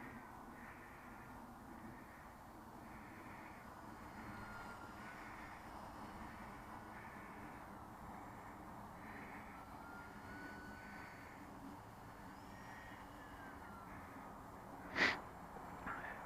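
A Radiolink A560 RC airplane throttles up in flight: a faint, distant, steady motor whine with pulsing rises. A brief sharp noise comes near the end.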